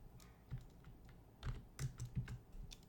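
Quiet computer keyboard presses while modeling in Blender: a loose string of soft clicks and taps, some landing in quick pairs, heard close but at low volume against faint room noise, without speech.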